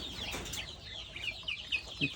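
Chickens on a small mixed duck-and-chicken farm, soft clucks and a few short higher calls near the end over a quiet outdoor background.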